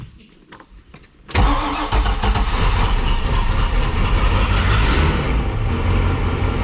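Cold start of an abandoned boat's engine: a second of quiet tinkering, then a sudden loud catch that settles straight into a rough, steady, close-up running roar, with no voices.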